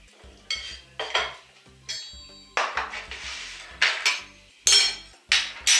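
A spoon scrapes juice and seeds from the middle of a fruit for a tropical salad: a close series of about eight short scraping and clinking strokes against the flesh and bowl, with brief pauses between them and no talking.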